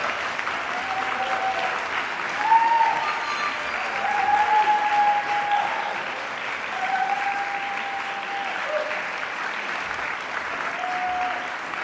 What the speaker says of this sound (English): Would you join me in offering a round of applause to these terrific students?